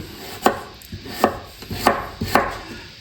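A knife chops ginger into thin strips on a cutting board, four or five crisp, evenly spaced cuts landing close and clear with no voices.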